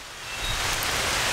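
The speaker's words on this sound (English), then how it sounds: "it is raining pretty good out" Steady rain pours outdoors at a woodland gathering, a dense, even hiss that swells slightly louder over the short stretch with no voices.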